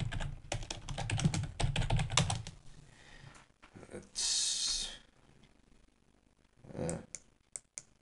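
Bursts of quick key clicks on a computer keyboard as a command is typed into a text-based online game, soft and close, with pauses, a sharp hiss and a voice speaking between the bursts.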